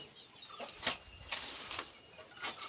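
Chickens move about nearby, with a few brief bursts of wing flapping and faint clucking against a quiet background.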